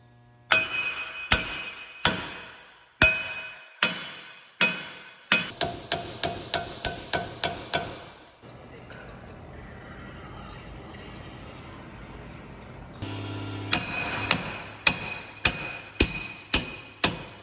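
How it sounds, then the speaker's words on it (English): Sharp metallic hammer blows strike a rusted wheel hub on a Dodge Dakota in irregular bursts, some fast and repeated, broken by a stretch of steady hiss before the banging resumes. "we're gonna start hitting this with a hammer, break the rust off"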